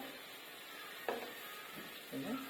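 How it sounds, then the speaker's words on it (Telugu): Dried fish pieces roast in a pan and are stirred, with a faint steady sizzle and a couple of quiet scraping strokes, one sharp and one longer near the end. "వీటిని కూడా కొద్దిగా రోస్ట్ చేయాలి, స్మెల్ పోయేంత వరకు"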